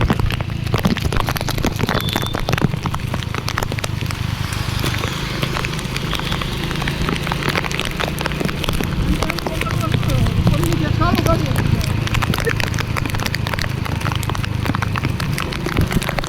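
Heavy rain pours down in a dense, steady hiss that holds at the same loud level throughout, with a low rumble running beneath it.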